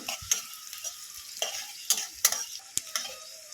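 Fish cutlets being fried in a pan: a soft, continuous sizzle with intermittent sharper spatters and scraping stirs of a utensil, fairly quiet and close, with no talking.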